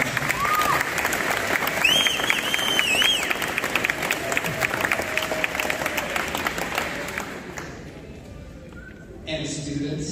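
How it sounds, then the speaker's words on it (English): Audience applause at an evening school celebration, dense sustained clapping from a crowd with voices and cheers mixed in, fading toward the end. "So let's give them another round of applause."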